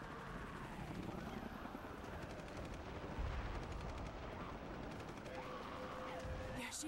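Helicopters and gunfire in the video game Shadow of the Tomb Raider, heard as a steady rotor drone under rapid bursts of distant shots, with a radio voice briefly audible in the mix.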